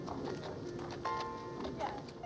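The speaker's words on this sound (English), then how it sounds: "I come here and I bond with this horse." A horse's hooves clip-clop steadily at close range on a farm, with faint whinny-like tones and background voices layered over the rhythmic steps.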